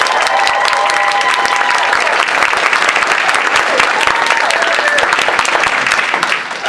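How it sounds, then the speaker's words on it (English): Loud, sustained clapping with cheering and shouts from a convention audience voting for a contestant in a flash fiction contest, dense and continuous throughout. "we just want you to shout and cheer and clap"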